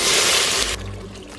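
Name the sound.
beef broth being poured into an Instant Pot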